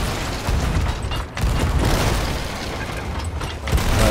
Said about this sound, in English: They're shooting at the galleon.